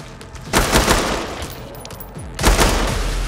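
Bursts of rapid gunfire from an old man shooting at zombies in a store room in Killing Floor's Horzine Offices, two loud volleys of overlapping shots separated by a quieter stretch of scattered fire.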